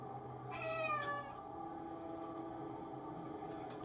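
A cat gives one long drawn-out meow, clear and fairly close, over a low steady hum, followed by quiet background with a few faint clicks.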